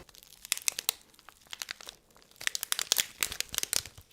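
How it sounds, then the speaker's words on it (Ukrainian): Crinkly perfume packaging is rustled and crumpled close up during an unboxing, in rapid bursts of sharp crackling separated by brief pauses, with no speech over it. "вибачайте за весь шурхіт"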